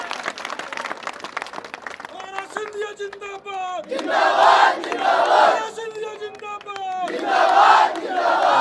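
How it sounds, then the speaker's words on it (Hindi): Crowd of women clapping at a public political rally in Chiloth, Shivpuri, with loud bursts of applause and cheering swelling in waves between stretches of shouting and amplified voices. "महिलाओं ने तो बहुत ताली बजाई"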